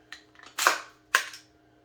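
An empty rifle magazine drops free the moment the release is pressed, giving two sharp metallic clacks about half a second apart, close and crisp, with a faint click before them.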